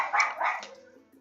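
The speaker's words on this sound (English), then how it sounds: "We have a dog, it barks." A dog in the Rollercoaster Tycoon 3 video game gives two quick, mid-pitched barks in a row, fairly close and clear, followed by a fading whine-like tail.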